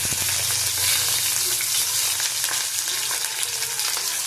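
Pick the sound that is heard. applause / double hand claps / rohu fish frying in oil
rohu fish frying in oil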